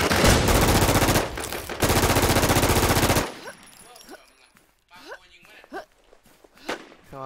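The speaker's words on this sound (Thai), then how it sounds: "มาโคยิงเฮีย" Rapid automatic gunfire in the online shooter Infestation, two loud dense bursts over roughly three seconds, then quieter scattered game sounds while people talk.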